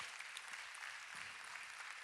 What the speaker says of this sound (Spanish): Dele ese aplauso bien fuerte al Señor.